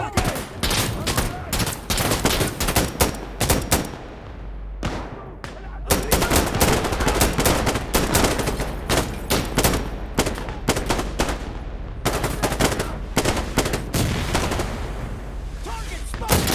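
Intense gunfire and artillery blasts in the shooter game Insurgency Sandstorm: dense rapid volleys and heavy booms, with a brief lull before the barrage resumes, loud and close throughout.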